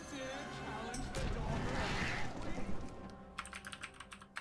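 Computer keyboard typing during a Hearthstone free-to-play Priest deck gameplay session, a steady close patter of keystrokes under a continuous background hum, turning into sharper, more separated clicks toward the end.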